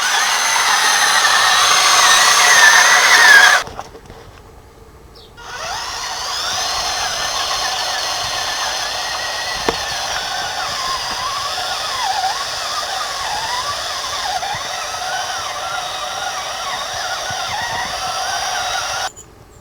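An RC post-apocalyptic half-track model drives along with a high electric motor whine and gear buzz, loud and steady, briefly dropping away to quiet before starting up again and running on.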